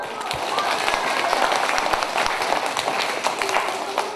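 A crowd claps together, a dense steady patter of many hands with occasional sharper claps, holding at an even level throughout.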